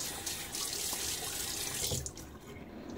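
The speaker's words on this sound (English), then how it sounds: "throw a little bit of water on" Water runs from a tap and splashes during a wet shave with a Gillette Nacet blade in a Timeless razor, a close, brief rush of water that fades out near the end.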